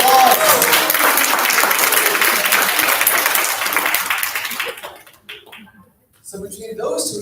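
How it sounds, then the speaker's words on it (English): Youth leadership camp audience applauding a good answer during a presentation, a dense loud burst of clapping that fades out, then a few scattered claps. "Round of applause."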